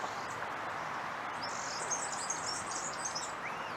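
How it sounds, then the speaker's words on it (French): Faint small birds chirp in quick, high twittering bursts in the distance over a soft, steady background hush. "Ce qui est très agréable, c'est qu'on entend les petits oiseaux."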